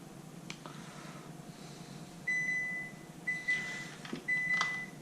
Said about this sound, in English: That's the oven going off for 350 or 450 actually